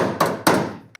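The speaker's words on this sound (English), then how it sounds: "hammer the panel back to where it was, so you don't distort it too much" Hammer striking a Mitsubishi FTO body panel back into shape, two sharp close metallic knocks that ring and decay, then a small final tap.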